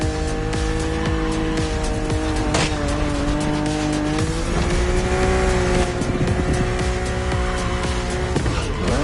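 A BMW Z roadster races in The Crew Motorfest, its engine droning loud and steady with shifting pitch while tires squeal and skid almost throughout.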